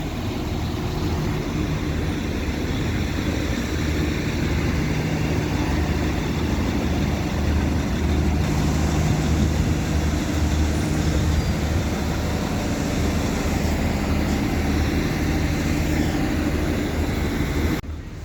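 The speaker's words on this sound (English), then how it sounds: "Here comes the 1601 Northern Ireland Railway service to Larne Harbour." A Northern Ireland Railways passenger service to Larne Harbour passes at Whitehead, a steady, loud, continuous rumble and roar lasting throughout with no talk.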